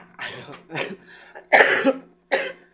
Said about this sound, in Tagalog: Pasensya na, inuubo ako.